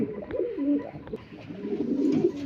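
Pigeons kept for sale in Narayanganj, including a silver hen, a red male and a black male, giving low, throaty coos close by in two quiet rolling phrases.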